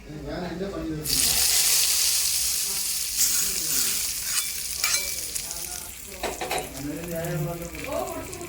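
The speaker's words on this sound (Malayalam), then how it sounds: "നമുക്ക് ഇനി ഇതിലേക്ക് കടുക് താളിച്ച് വയ്ക്കാം." Mustard seeds sizzle as they are tempered in hot oil for a tomato curry, a bright crackling burst that starts abruptly and continues under intermittent talking.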